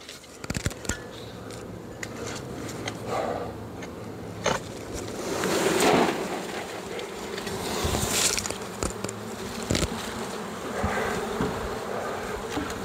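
A honey bee swarm buzzes steadily throughout, a dense droning hum from many insects close by, with occasional louder passes of individual bees and some knocks and handling noise.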